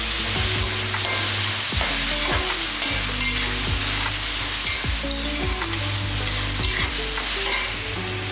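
Carrots and other vegetables sauté in a pan for chicken fried rice, with a constant loud sizzle and regular clattering scrapes as they are stirred.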